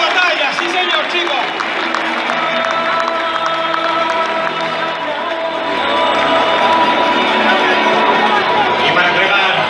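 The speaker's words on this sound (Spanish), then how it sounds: "Fuerte aplauso para este chico" Crowd at a national recortes contest in Valencia cheers and applauds steadily at close range, a dense continuous roar of clapping and shouts that swells louder toward the end.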